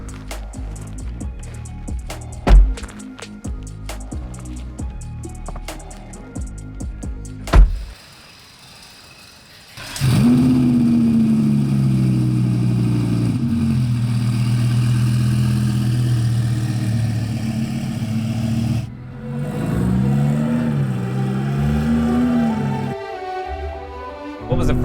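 A 2,000-plus horsepower twin-turbo Audi R8 V10 heard from a ride, with sharp bursts and crackles at first, then a loud, sustained engine drone with rising and falling revs and a brief drop-off partway through.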